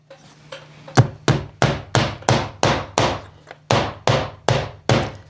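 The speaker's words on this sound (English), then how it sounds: "Let's go ahead and hammer in our hook." A hammer drives a picture hook into a wall in about a dozen sharp, evenly spaced taps, loud and close, with no talking.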